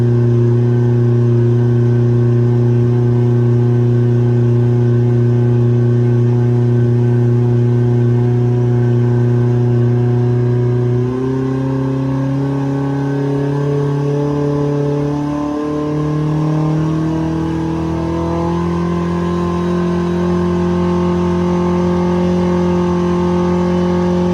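A Yamaha 70 outboard engine with a low-voltage charging fault runs steadily at around 3,000 to 3,500 rpm, a loud, close, sustained drone whose pitch shifts and rises partway through.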